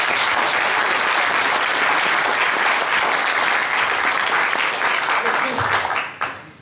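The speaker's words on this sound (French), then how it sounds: "Applaudissons Annick." Sustained, loud crowd applause fills a political campaign meeting in Beauvais, steady throughout before tapering off near the end, with some voices mixed in.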